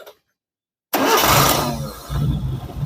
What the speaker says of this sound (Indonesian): Ini bagian dari karbunya udah jadi sempurna. Coba kita starter.